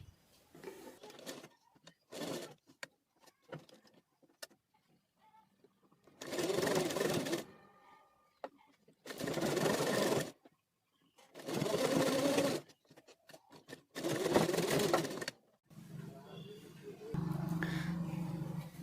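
A sewing machine stitches a boat-neck blouse in several loud, steady bursts separated by quiet pauses, with faint handling noises between runs.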